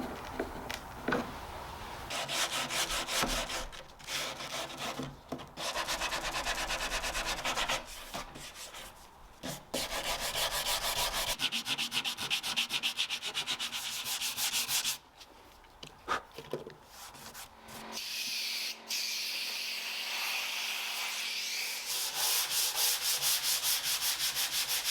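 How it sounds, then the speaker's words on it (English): Steady scraping of hand sanding paint off an antique wooden dresser base, strokes repeating back and forth with brief pauses, fairly close. "There's still a lot of hand sanding to do to remove the rest of this paint"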